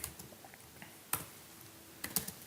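Someone typing C# code on a computer keyboard, giving a few sparse, crisp key clicks with short pauses between them, close and fairly quiet.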